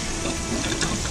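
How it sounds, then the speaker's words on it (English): Water gushing steadily from the far end of a freezing RV fresh water hose during a winter fix, a broad continuous splashing flow, close and fairly loud with no talk. "So we got water coming out of the other side."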